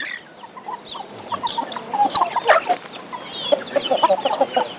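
Several native Thai chickens cluck and chatter close by in an irregular, busy stream of short calls, with no talking.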